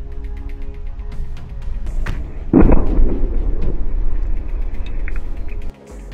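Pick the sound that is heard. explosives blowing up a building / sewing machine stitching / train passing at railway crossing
explosives blowing up a building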